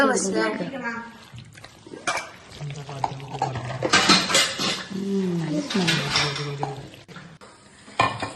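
Pasta is stirred in a pan, with scraping and clinking of a utensil against the metal and a soft sizzle, heard under near-continuous talk.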